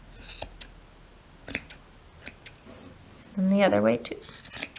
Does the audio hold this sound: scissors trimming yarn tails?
yes